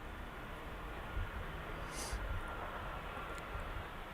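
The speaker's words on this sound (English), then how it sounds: "Absolutely beautiful sounding aeroplane, that 195 E2, similar to sound to the Airbus A220." An Embraer 195 airliner at Birmingham Airport gives a faint, steady, distant jet roar that stays even throughout, with no clear approach or fade.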